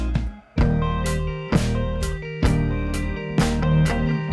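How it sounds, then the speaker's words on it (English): Band arrangement of a song section with organ, a sustained keyboard drone running under repeated chord hits that land roughly once a second, bright cymbal-like crashes on each accent, no voices. "So it sounds like this with the organ."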